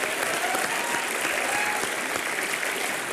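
Dense, steady applause from a large studio audience at a comedy show fills the whole stretch, even and sustained without a break.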